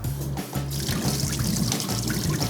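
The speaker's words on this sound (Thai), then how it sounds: "ตอนนี้คาดว่าน้ำปูนใสจะเคลือบทั่วดีแล้วเดี๋ยวจะไปเทน้ำปูนใสออกนะครับ" Limewater poured off pumpkin pieces while making Thai pumpkin in coconut milk, a steady close trickling and splashing of liquid that runs on without pause.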